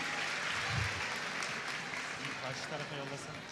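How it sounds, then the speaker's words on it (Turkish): An audience at a media awards ceremony claps steadily in a dense, continuous wash of applause, with some voices mixed in beneath it. "Bizleri alkışlarla Hande Doğan Demir uğurluyoruz kendisini."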